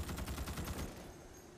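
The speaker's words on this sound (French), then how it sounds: "Mon arme, elle a beaucoup de recul." Rapid automatic gunfire from a weapon in the PS5 game Starship Troopers Extermination, a loud burst of roughly eight close, evenly spaced shots that stops abruptly and leaves a brief decaying tail.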